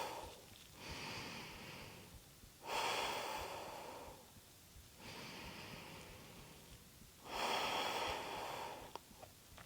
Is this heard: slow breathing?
yes